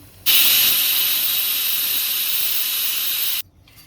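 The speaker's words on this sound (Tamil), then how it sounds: "குக்கர் விசில் வந்துட்டு இருக்குங்க." A pressure cooker cooking chicken biryani lets out a single loud, steady hissing whistle of escaping steam for about three seconds, then cuts off abruptly.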